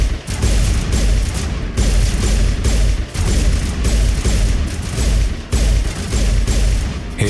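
Dense, sustained gunfire from combat in Mass Effect Legendary Edition, a loud continuous barrage of overlapping shots broken by brief pauses about every second or two, with no talk over it.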